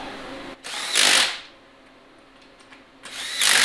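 Power tool tightening the intake bolts on a turbo LS engine during a junkyard rebuild: two loud, close whirring bursts of roughly a second each, separated by a quieter pause.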